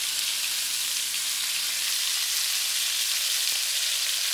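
Black tiger shrimp pan frying over lowered heat, a steady close sizzle with no break throughout and no voices.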